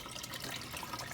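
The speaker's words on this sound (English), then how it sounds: "I'm about to try to pour this into my tank as gently" Treated tap water pours gently into an aquarium tank with a sandy bottom, a steady close splashing and trickling heard alone.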